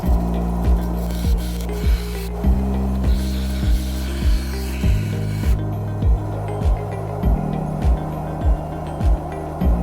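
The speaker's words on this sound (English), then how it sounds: "The final outside shape I made on the disc sander." A disc sander grinds the outline of an old kitchen knife, giving a continuous rasping whir broken by regular, evenly spaced scraping strokes about every half second, close and loud with no voices.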